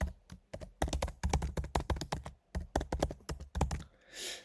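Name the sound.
typing an email address on a computer keyboard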